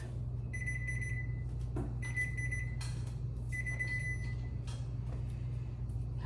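A kitchen timer alarm beeps in three evenly spaced bursts of rapid electronic pips over a constant low appliance hum in a home kitchen.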